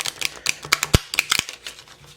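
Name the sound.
shuffling tarot cards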